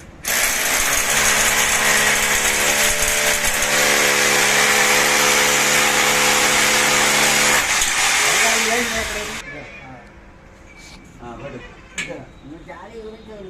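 A power drill running at a steady loud whine for several seconds during apartment window grill work, then stopping and leaving low clatter and handling noise from the site.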